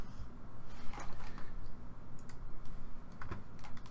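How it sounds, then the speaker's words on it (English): Keys are pressed on a computer keyboard, including the escape key, with a quick run of close, crisp clicks and taps over steady low room hum. "And when I press escape,"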